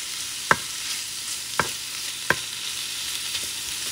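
Bacon and beans are stirred in a cooking pot for feijoada over a steady low sizzle, with three sharp utensil knocks against the pot spaced through the clip.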